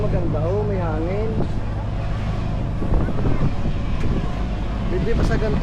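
Steady wind buffets the microphone in a continuous low rumble, with a voice speaking briefly near the start.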